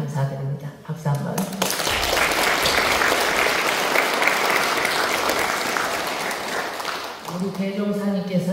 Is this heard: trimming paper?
no